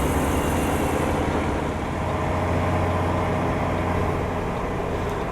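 A truck's engine in a trucking video game, driving through mid-Idaho: a steady, loud, droning rumble with road noise, continuous and unbroken with no talk.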